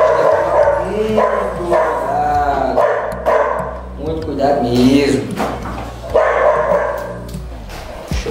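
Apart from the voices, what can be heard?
dog barking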